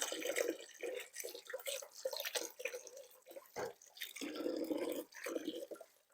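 Tap water running into a kitchen sink while a knife is rinsed off after chopping onion, a steady near splashing stream with small drips and clinks, fairly quiet.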